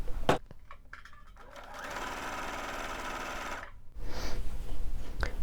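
A sewing machine stitches a diagonal line across quilt fabric in one sustained run of a couple of seconds. A handling clatter comes before it and rustling noise follows after it stops.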